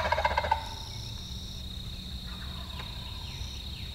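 Wild turkey gobbling outdoors during a spring hunt, one rapid rattling gobble at the start from a moderate distance, followed by quiet woodland ambience with faint insects and birds.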